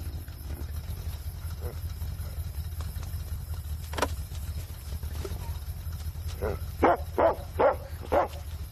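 A dog barks four or five times in quick succession near the end, preceded by a lone earlier yelp, over a steady low engine rumble, with a voice speaking softly earlier.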